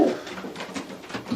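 Pigeons coo softly in a dry racing-pigeon loft, with low, steady murmuring calls under a faint wash of background noise.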